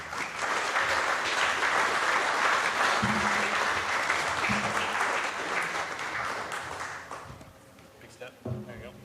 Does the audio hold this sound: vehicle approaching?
no